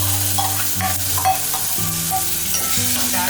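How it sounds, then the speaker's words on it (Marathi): Cooked urad dal is stirred in a sizzling pan for a spicy Satara-style ghute curry, close-up crackling and scraping over steady background music. "डाळही छान हलवून घ्या।"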